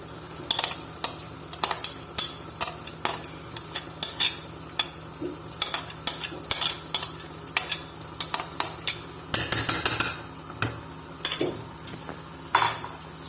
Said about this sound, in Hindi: अब मैं इसके अंदर डालूंगी ये पालक। बिस्मिल्लाह। साथ ही चने की दाल।